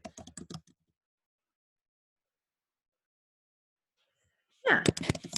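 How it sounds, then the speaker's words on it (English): Typing on a computer keyboard comes in two quick bursts of clicks, one at the start and a denser one near the end, with near silence between them. "I'm having some major typing issues."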